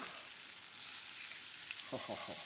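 Thai pork burgers fry in a pan at a moderate heat, giving a steady hissing sizzle that is close and constant, with a few soft bumps and scrapes near the end.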